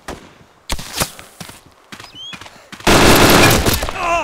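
Gunfire in a shooter video game, including an M1 rifle: several sharp shots ring out early, then a dense burst of heavy firing fills the last second and a half, with brief talk and game sounds between the shots.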